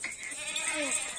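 A pregnant Markhor-type goat at an Eid livestock sale gives a single short, wavering bleat, close and fairly loud, over a faint background of the pen.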